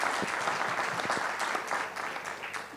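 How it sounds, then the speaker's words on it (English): Brief applause for a speaker at a fireside chat on shipping's net-zero journey, moderate audience clapping with a few distinct claps standing out. "can we have a round of applause for Mr. S.M. Vaidya?"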